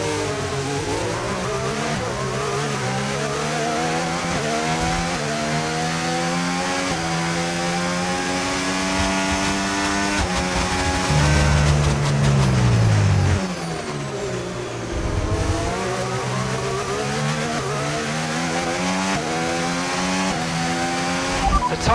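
Formula 1 race car in the pit lane in F1 25 at Austria, with steady loud engine whine and harmonic pitch shifts as it slows and accelerates, other car sounds around it.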